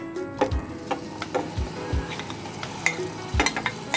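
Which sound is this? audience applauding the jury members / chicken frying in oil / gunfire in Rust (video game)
chicken frying in oil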